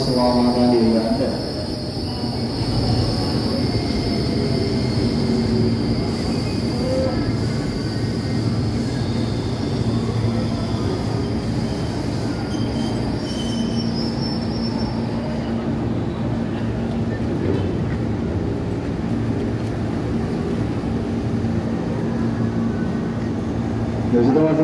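Commuter rail cars rumble steadily nearby at a station with a sustained high squeal of wheels, while voices and Indonesian-language announcements carry over the station noise.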